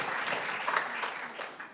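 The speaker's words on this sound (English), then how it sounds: "I would clap for that." Audience at a World Affairs Council of Western Michigan event claps briefly, a soft, moderately distant patter of applause lasting under two seconds.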